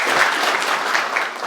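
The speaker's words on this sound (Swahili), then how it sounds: "Tumpigie makofi." An outdoor crowd at a public rally on open grounds breaks into loud, sustained clapping, a thick continuous wash of hands with no voices on top.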